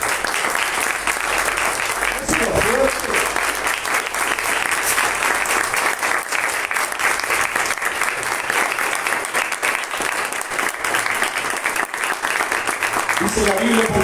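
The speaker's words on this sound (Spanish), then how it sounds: "¿Le puede dar un aplauso al Señor?" Church congregation giving sustained applause to the Lord during a sermon, a thick, even roar of many hands clapping that carries on for a long stretch, with faint voices showing briefly near the start and the end.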